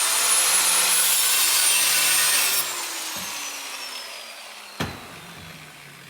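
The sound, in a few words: grinder with cutting wheel cutting metal pieces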